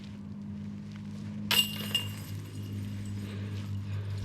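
A Mach 3 golf disc strikes the metal pole of a disc golf basket with a sudden bright clank and ringing jingle of chains, followed by a quieter second clink against steady outdoor background noise.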